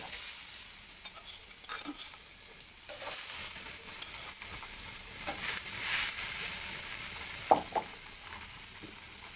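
Hot oil sizzles in a pan before fish is cooked, a soft, steady frying hiss with a few faint stirring scrapes and one brief clink near the end. No voices.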